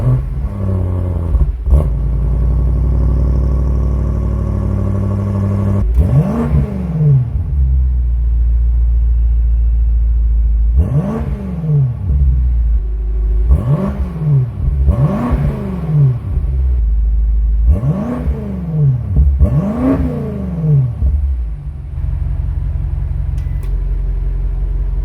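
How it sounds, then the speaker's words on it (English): A BMW F90 M5 Competition V8 engine revs repeatedly, each blip rising and falling in pitch, with a deep exhaust burble idling loudly between the revs. "the exhaust note that comes out of it is quite incredible"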